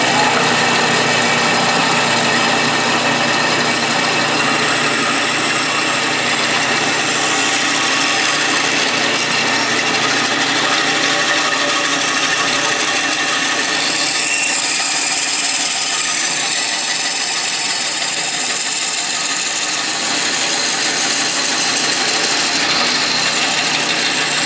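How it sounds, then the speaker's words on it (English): A bandsaw whines steadily as it trims wood from a Telecaster-style guitar body, loud and continuous throughout, with the blade's hiss shifting slightly as the cut changes. "I'm going to use the bandsaw"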